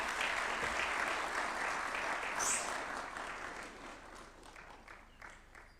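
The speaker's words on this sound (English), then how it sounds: "Another round of applause for Professor Michael Chege." A crowd at a State House event applauds steadily, the clapping loud at first and then slowly fading away over a few seconds.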